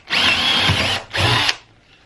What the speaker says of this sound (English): now I can come back with my skill saw and my jigsaw and cut that out